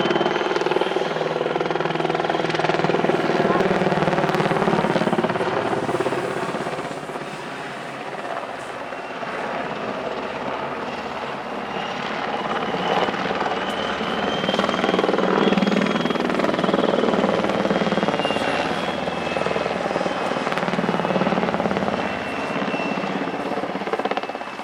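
A Czech Air Force helicopter flies a display at RIAT 2025, its rotor and turbine drone loud and continuous, swelling and fading slightly as it manoeuvres, with no talk over it.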